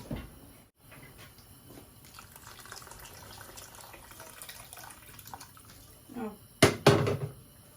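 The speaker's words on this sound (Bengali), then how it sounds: "আমার পরিমাণ মতো আমি পানি দিমু, যাতে আর বারে বারে পানি দিতাম না" Water pours into a cooking pot of lentils during home Ramadan iftar preparation, a steady splashing fill that ends in a louder, closer gush.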